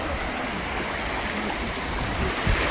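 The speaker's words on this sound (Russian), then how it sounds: "Море штормит сегодня с утра." Stormy sea waves surge at a beach in Sharm El Sheikh, a continuous broad wash of surf with wind, fairly loud and steady, with no talking.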